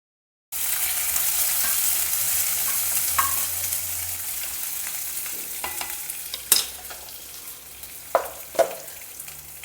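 Sliced onion sizzles steadily in hot oil with browned lentils in a pan for a South Indian vegetable dish, the frying starting abruptly and continuing alone with a few louder scraping stirs near the end.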